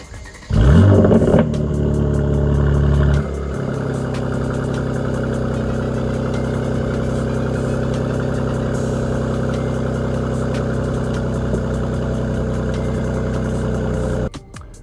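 A Mercedes C43 AMG facelift fires up with a loud, sudden engine flare and rev that settles after about three seconds into a steady, rumbling idle before cutting off at the end.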